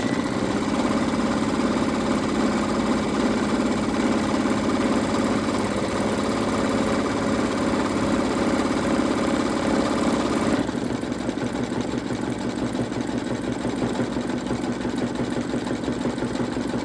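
An embroidery machine stitches the outline around an Easter bunny appliqué, giving a steady, close mechanical whir that shifts to a slightly different stitching rhythm partway through. No one speaks.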